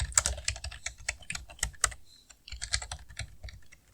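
Quick bursts of keystrokes on a computer keyboard while a simple hello program is written on an early Slackware Linux system, near and irregular with a short pause partway.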